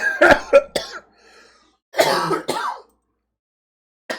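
Close, harsh coughing in two bursts: three quick hacks, a short pause, then two more raspy coughs before silence.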